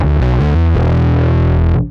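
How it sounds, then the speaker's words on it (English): Bass distortion alone from a Source Audio Aftershock pedal, clean blend pulled down, on the Bass Tube Drive engine: a short run of loud, fuzzy plucked bass notes followed by a long held note that stops abruptly, no voices. "Let me pull the clean down so we're hearing just the distortion."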